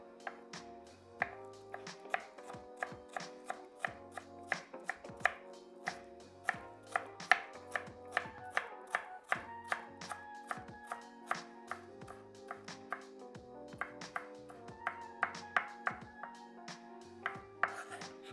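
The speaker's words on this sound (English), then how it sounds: "I'm gonna show you a different way to chop very finely the onion" A knife finely chops an onion on a cutting board with steady, rapid, close taps, and these continue throughout with no talking.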